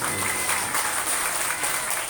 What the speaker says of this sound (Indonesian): Tepuk tangan dulu, ha?